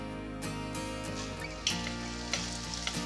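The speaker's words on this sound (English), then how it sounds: "So in goes a good amount of oil because I want to caramelize my onions until they're really, really sweet. Into this goes my onions." Onions drop into a generous amount of hot oil for caramelizing, starting a soft sizzle with a few sharp crackles, faint beneath a steady background hum.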